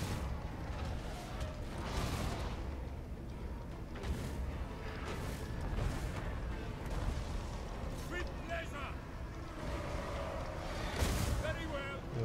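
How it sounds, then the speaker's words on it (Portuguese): Norscan cannon artillery in the strategy game Total War: Warhammer 2, heavy booming shots and battle rumble arriving every second or two, with a player's voice talking over the barrage. "Vamos aqui o canhão de Norska."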